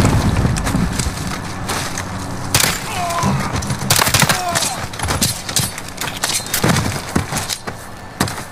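Heavy gunfire in Call of Duty Modern Warfare's campaign: loud broadband bursts and sharp shots cluster in several volleys, with impacts and debris between them and voices speaking intermittently over the combat.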